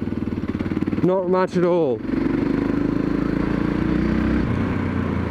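A 2013 Yamaha MT03 motorcycle engine drones steadily while riding, loud and close under wind, with a rider speaking briefly over it.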